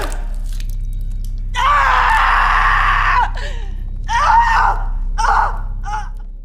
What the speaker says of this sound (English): Her mother and sister hear her scream.